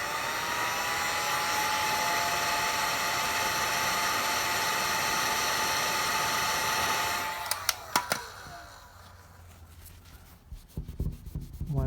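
A heat gun blows a steady, loud hot-air roar while warming matte black vinyl wrap on a Toyota MR2 Spyder, running continuously then cutting off, followed by quieter handling noises and light clicks.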